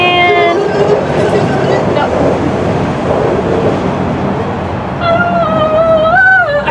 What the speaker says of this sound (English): Oh, there's the train again.